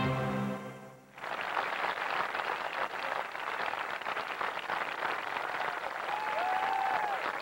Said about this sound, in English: Crowd assembling at the ninth green here at the links at Crowbush Cove.